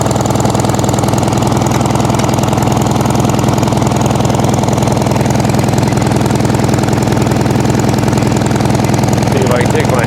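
Farmall H tractor engine running just after a cold start in freezing weather: a loud, steady, rapid chugging knock that continues evenly for the whole stretch, close by.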